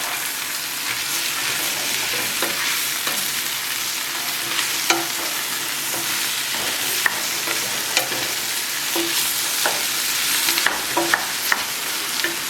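Cabbage, carrots and beets sweat in a pot, giving a constant soft sizzle with occasional light clicks and stirring taps, close and steady throughout with no talk.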